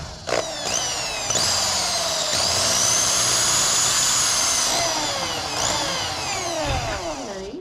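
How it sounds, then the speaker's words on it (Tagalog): A power drill bores a hole through rubber, its loud, steady whine running almost continuously with brief dips and restarts and a slowing whir near the end, with no talk over it. "Tagalan natin yung goma sa taas, so butasan na natin. Barena ka ngayon."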